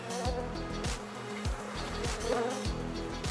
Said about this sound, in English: we're just covering thousands of bees here